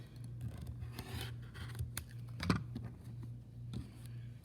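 Scissors trimming the sides of a fabric quilt block, a few soft snips and rustles of cloth close by, with one sharper cut near the middle and no talking.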